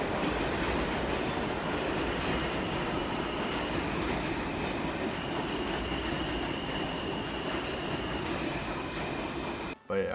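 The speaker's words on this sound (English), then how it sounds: "The trains are so loud." Loud train in Korea, a continuous close rumble of wheels and carriage noise with rattling clatter throughout, briefly cutting out near the end.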